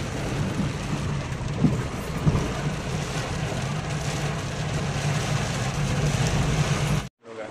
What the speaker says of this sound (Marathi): खूप जोराचा पाऊस आहे.